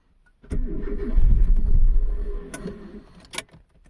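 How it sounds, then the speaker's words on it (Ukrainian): A Mitsubishi Galant 7 with its MAF sensor disconnected cranks and fires up, the engine catching and running unevenly for a couple of seconds before dropping off, with a few sharp clicks near the end. "Нам треба запустити двигун"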